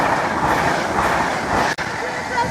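A train passes Barlaston level crossing as a loud, continuous close-up rumble and rush of wheels and carriages that lasts the whole stretch.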